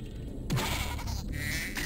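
A sheep bleats once in the platform game Spyro 2, a short wavering cry rising out of a soft background hum, fairly close and alone.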